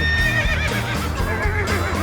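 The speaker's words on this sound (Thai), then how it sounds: "ที่นี่มีม้าสีขาวเต็มไปหมดเลย" Horses neigh loudly and close by amid a herd of white horses, with whinnies rising and falling over the whole stretch and faint hoof clopping beneath.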